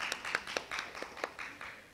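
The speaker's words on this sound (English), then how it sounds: "round of applause for ma'am." An audience at a school leadership summit conference claps in a short, faint run of separate hand claps, a few distinct slaps spaced in quick succession.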